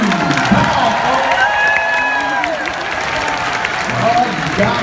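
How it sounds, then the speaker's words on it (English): An audience at the Dixie Stampede dinner show applauds and cheers for children who took part, a loud sustained crowd roar with clapping and scattered shouts, people talking within it. "this applause is just for you"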